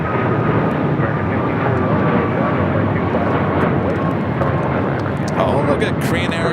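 A Green Air Cargo Boeing 777 freighter jet taking off at LAX, with a loud, broad, continuous engine roar that holds steady throughout, while a person talks over it.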